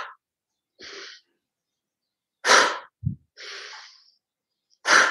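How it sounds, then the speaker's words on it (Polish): Energizing breathing practice with a long inhale and short exhale: several separate breathy bursts, each clear and close, with silent gaps between them and no talking. "Chcemy przyspieszyć akcję serca, to znaczy, że robimy długi wdech i krótki wydech."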